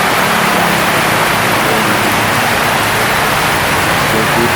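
A heavy downpour in Davao City roars steadily and loudly throughout, a thick wash of rain noise close by with no break.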